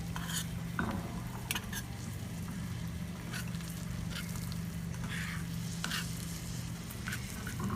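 Sweet potato stacks browning in foamy fat, a steady low sizzle with a constant hum underneath and occasional light clicks and scrapes of a pan or utensil, close and fairly quiet.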